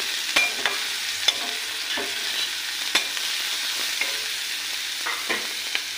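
Chopped onion fries in a pan with a steady close sizzle, broken by a series of sharp scraping stirs at irregular intervals, and no talking.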